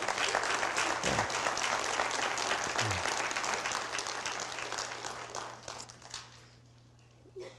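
A symposium audience claps for a graduate crossing the stage, a broad roomful of hands that starts strong and gradually thins out and fades toward the end, with no talk over it.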